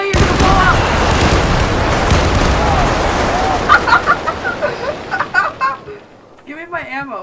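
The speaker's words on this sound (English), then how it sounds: "Uh-oh, there's an airstrike!" Airstrike in the video game GTA: a dense roar of explosions fills the first half, then a run of sharp separate blasts, with a voice speaking over the end.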